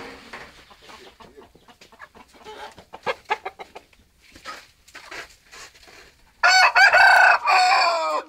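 A rooster crows loudly and close near the end, after scattered clucks and small farmyard clatter around the chicken yard; a brief exchange of voices comes before the crow.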